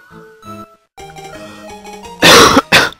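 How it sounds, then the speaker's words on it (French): Two loud, harsh coughs close to the microphone near the end, following a few seconds of melodic game music. "Vraiment désolé pour ma toux."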